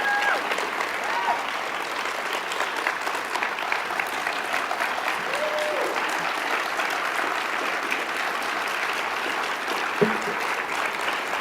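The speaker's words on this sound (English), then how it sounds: "One more round of applause for a great president, a great intellect, and a great leader." A large audience applauds after a presidential address at an academic conference, dense sustained clapping filling the whole stretch at an even, steady level, with a brief speaking voice near the end.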